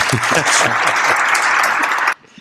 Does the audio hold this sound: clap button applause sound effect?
yes